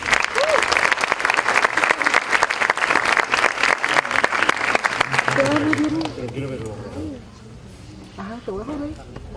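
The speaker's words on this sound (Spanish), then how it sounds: "Recibamos con un fuerte aplauso al doctor Xavier Giró Martín." A conference audience at the Afacom 2015 national assembly applauds loudly for Dr. Xavier Giró Martín; the dense clapping lasts about six seconds, then fades into murmured talk and stray voices.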